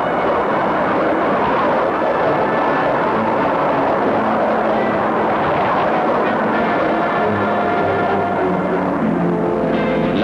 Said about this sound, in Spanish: el primer avión a chorro, el revolucionario Messerschmitt 262